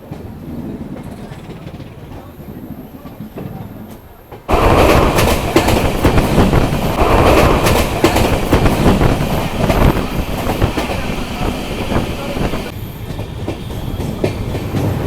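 The 13185 Ganga Sagar Express, an LHB-coached train, departs Sealdah with muffled interior rumble that suddenly opens into loud, rhythmic clickety-clack of wheels over rail joints, plus wind buffeting the microphone.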